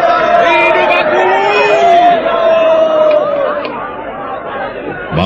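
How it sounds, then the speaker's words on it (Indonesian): A crowd of onlookers in a radio drama hails soldier candidates at their graduation, a loud, dense wall of cheering and excited chatter that stays steady, then thins slightly toward the end. "Maka demikianlah calon prajurit yang akan diwisuda itu mendapatkan tepukan yang meriah"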